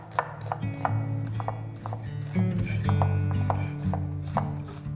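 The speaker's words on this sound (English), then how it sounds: "Half an onion, diced." Half an onion diced with a kitchen knife on a cutting board, giving steady close knife taps at a brisk, even rhythm over a humming background tone.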